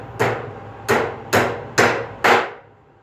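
A titanium hammer with a small head strikes five times in an even rhythm, each blow a sharp, loud, close crack with a short ringing decay, and no voices.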